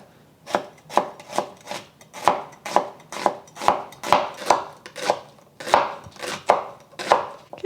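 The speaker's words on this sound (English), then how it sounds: "I have, let's see, a medium onion that I'm going to also slice" A knife slices a medium onion on a board with about twenty steady, evenly spaced cuts, close and clear with no talk.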